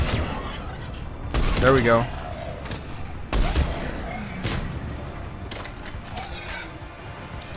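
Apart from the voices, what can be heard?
Black Widow rifle gunfire in Mass Effect 3 video game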